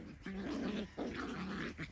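Schnoodle puppies growl while playing in a tunnel, two rough, rumbling bursts close by, the second longer and trailing off, with no talk.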